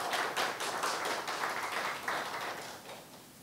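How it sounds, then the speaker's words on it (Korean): Church congregation breaking into brief applause, a dense burst of clapping with a few rhythmic surges that gradually softens over a few seconds. "큰 감사의 박수 올려드리도록 하겠습니다"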